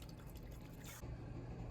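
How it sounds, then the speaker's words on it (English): Braising liquid from a red wine chuck roast is poured through a strainer into a saucepan, giving a faint, steady trickle with soft drips and splashes and no voices. "Through a strainer into a saucepan, pour in the liquid from the pot"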